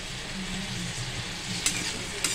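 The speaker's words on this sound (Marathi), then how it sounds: "आता ही वांगी आपण परतून घेतोय।" Brinjal pieces sizzle and fry in hot oil with salt as they are stirred in a pan, a close steady crackle with a couple of sharp utensil clicks.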